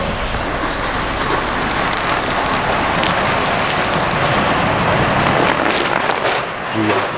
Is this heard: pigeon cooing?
no